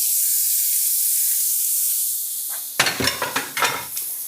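Sixteen halved cherry tomatoes go into a hot pan, where a steady hiss gives way to a loud burst of sizzling and spitting, followed by a few sharp crackling pulses as they are stirred.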